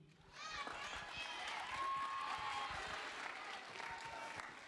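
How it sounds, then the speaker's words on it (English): Quiet, distant applause from a band holiday concert audience swelling and holding steady, with faint voices and a whistle or cheer mixed in. "you can give yourself a round of applause if you want to"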